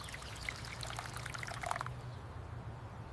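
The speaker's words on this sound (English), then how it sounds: "I water the indoor plants." Water pouring from a vessel onto indoor plants, a steady trickling stream for about two seconds that stops abruptly, leaving low room noise.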